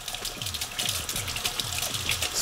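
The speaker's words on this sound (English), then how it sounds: "let's try to wash the bottle with the brushes under running water" Tap water runs steadily into a sink while a SodaStream bottle is scrubbed with a cleaning brush under the stream, giving a continuous splashing rush with rhythmic scrubbing strokes close by.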